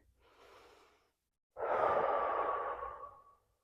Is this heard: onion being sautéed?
no